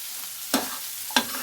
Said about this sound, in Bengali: লঙ্কাটা একটু মিশিয়ে নেব